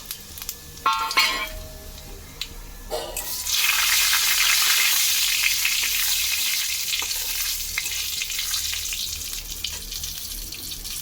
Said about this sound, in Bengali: এই গোটা মশলাগুলো ফোড়নে দিয়ে দেব জিরে তেজপাতা শুকনো লঙ্কা এগুলো ফোড়নে দিয়ে দেবো দিয়ে একটু ভাজা ভাজা করে নেবো